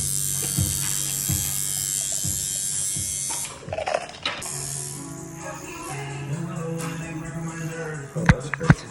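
A tattoo machine buzzes steadily against skin during a tattoo session, a close continuous electric drone that cuts out briefly partway through and then resumes, with a few clicks and low rumbles around it.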